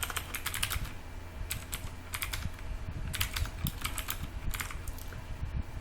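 Rapid clicking of keys on a computer keyboard, bursts of typing in quick succession, close and fairly quiet with no voices.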